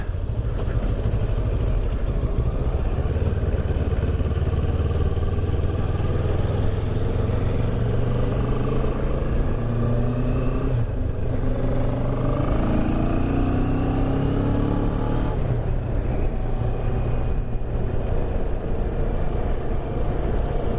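A fuel-injected CF Moto 650 MT parallel-twin motorcycle engine runs steadily and fairly loud, its note rising and falling as it revs up and settles, with no talking.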